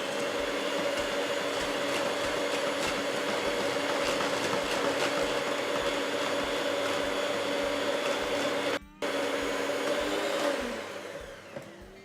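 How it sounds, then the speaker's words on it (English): An electric whisk whirs loudly and continuously as it beats milk and oil together for vegan muffin batter, with a brief interruption partway through before the motor winds down at the end. "So I'm just going to whisk the milk and the oil together just to get some air into it"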